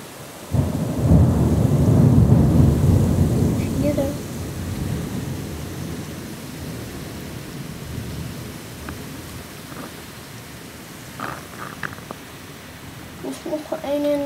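A thunderstorm with heavy rain in Zuid-Scharwoude: a loud, rolling thunderclap opens and fades over several seconds into steady rain hiss, with voices talking faintly near the end.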